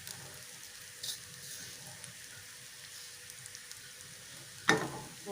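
Ingredients seasoned with black pepper and salt sizzle softly in a pan, a faint steady frying hiss with a couple of stirring knocks and one louder clatter near the end.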